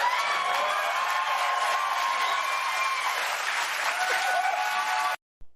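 An audience claps steadily at a political event, a dense, sustained burst of applause with no voices on top, ending suddenly.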